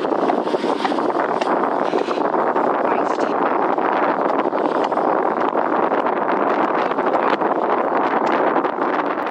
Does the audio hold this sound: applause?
no